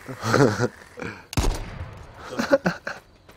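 Gunfire at zombies in the online survival game H1Z1, a sharp, loud burst of several shots in the middle with close game sounds and voices around it.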